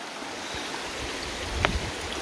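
The El Diamante river in Jujutla, El Salvador, flows along its lower stretch with a steady, broad rush of moving water, and one brief louder splash comes near the end.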